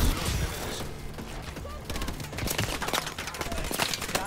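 Rapid weapon fire from Call of Duty Advanced Warfare gameplay, dense bursts of shots crackling nearly continuously with sharp transients throughout, loud and busy with no pauses.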